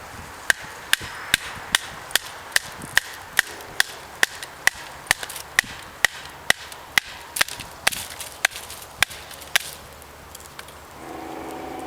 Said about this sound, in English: As you can see, there's no problem batoning, splitting up your kindling and whatnot.